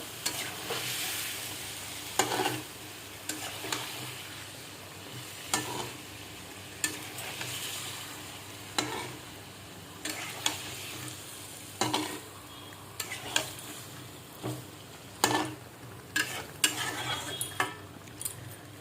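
Chicken frying on a low flame in a pot for dum biryani, with a steady soft sizzle broken by repeated scraping and clanking as a utensil stirs the meat at intervals, with no talking.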